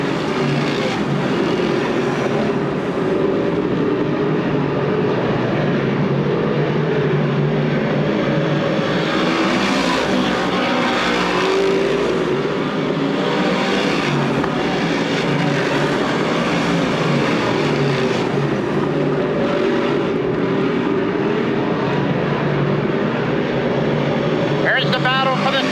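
Modified race cars roaring around the Grandview Speedway oval on opening night in 2005, a dense continuous engine drone swelling and fading as cars pass, with an announcer talking over it throughout.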